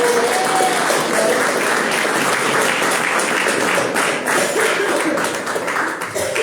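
A crowd at a comedy show applauds and claps continuously and loudly for a comedian, a dense, sustained wash of hands filling the room with no pauses.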